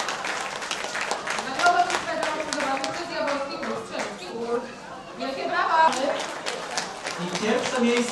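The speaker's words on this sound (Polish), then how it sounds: "Wielkie brawa!" Applause for winners at a charity shooting tournament, scattered clapping mixed with lively chatter and voices from the crowd, swelling and easing over several seconds.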